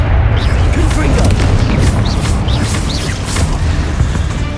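Confringo spell explosion in Hogwarts Legacy: a loud, sustained booming blast with crackling debris that fills the whole moment, while a voice is heard over it.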